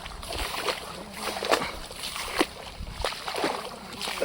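A small wooden boat moves through river floodwater over drowned paddy fields, with water sloshing and splashing against the hull in irregular bursts. The sound is fairly faint and close, under a light outdoor background.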